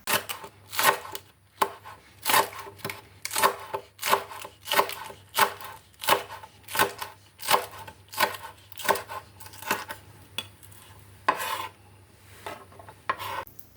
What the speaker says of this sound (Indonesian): Lalu potong-potong 1 batang daun bawang